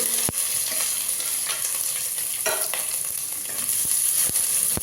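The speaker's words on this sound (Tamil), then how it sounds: "கடுகு கொஞ்சம் போட்டுக்கலாம் வெங்காயம் பச்சை மிளகா போட்டுக்கலாம்" Onion and green chili sizzle with mustard seeds in hot oil, a constant close crackle with a few sharp spoon knocks against the pan and scraping stirs.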